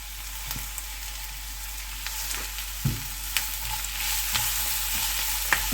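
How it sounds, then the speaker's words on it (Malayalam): Garlic paste with salt sautés in a hot pan, giving a steady close sizzle with scattered scraping stirs of a spoon across the metal. "നമുക്ക് നന്നായിട്ട് സോട്ട് ചെയ്ത് കൊടുക്കാം."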